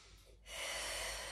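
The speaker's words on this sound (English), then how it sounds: "Exhale as you move." A strong, steady exhale during a Pilates knee-fold exercise on a towel roll. It starts about halfway through as a loud, breathy rush of air that holds to the end, after a quieter lead-in.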